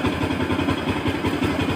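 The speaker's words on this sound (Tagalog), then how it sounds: "Ayun yung roar ng motor, yung buo." Bajaj Pulsar NS200 motorcycle fitted with a Power Perfect CDI, its engine running close by with a loud, full, throbbing rumble that stays steady throughout.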